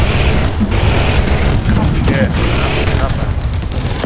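An M163 anti-aircraft gun fires in a combat video game, a dense, continuous rattling barrage with booming impacts that fills the whole clip, while a voice briefly speaks over it.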